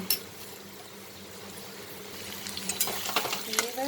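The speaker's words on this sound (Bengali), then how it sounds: "রসুন আদা দিয়ে একটু ভাজা ভাজা করবো" Garlic and ginger paste frying in a pan with already fried potato and onion for an elephant-foot yam and prawn curry, a steady low sizzle building into louder sputtering crackles toward the end, no talking.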